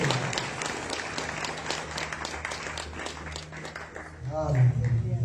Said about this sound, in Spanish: Aplauden al Señor.